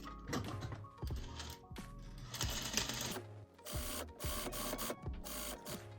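A sewing machine stitching down the facing on a coat pocket, a rapid mechanical chatter in bursts with short pauses between runs, close and clear with no voices.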